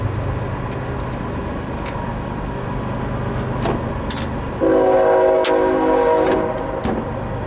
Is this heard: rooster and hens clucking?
no